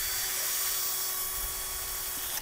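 Power drill running continuously in a high, steady whine while a woman builds paddock upgrades for horses, constant and close with a slight drop at the end.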